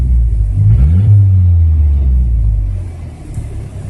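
A 1989 Ford Probe GT Turbo engine with a T04B turbo, loud and close, its low rumble dropping from a brief rev and settling into a smooth, steady idle without talk.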